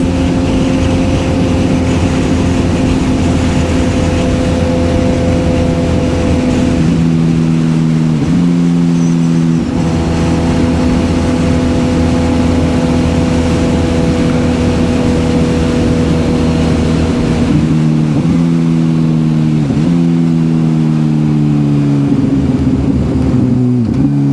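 A Suzuki GSX-R motorcycle engine drones steadily with shifting harmonic tones that drop and climb at gear changes, under a constant rush of wind noise while riding, no voices.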